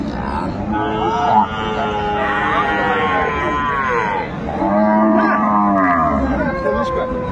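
Cattle at a busy market moo loudly and close, several long drawn-out calls, with people chattering and murmuring underneath.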